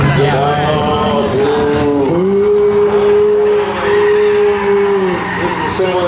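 A car at a 2019 Car Wars ramp competition revs hard while its tires squeal in a burnout, a loud sustained wail that bends in pitch, with people talking over it.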